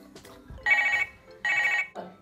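An outgoing telephone call in a cartoon about talking cars rings twice, each a short electronic trill burst separated by a brief pause, with faint background sounds before and after.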